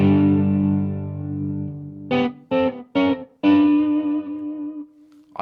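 Clean electric guitar from a mahogany Strat played through a Marshall 1987X amp: a long ringing chord fading out, then several short choppy strums and a final sustained chord, loud and alone.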